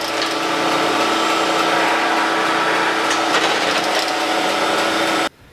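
A surface grinder takes a light pass across a magnetic chuck with a loud, steady whirring grind that holds evenly for about five seconds, then cuts off abruptly.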